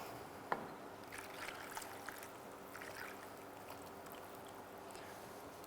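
Water is poured into a small sufuria holding peeled matoke for a Kisii-style stew, a faint, soft trickle and splash with a small knock at the start, quiet and close.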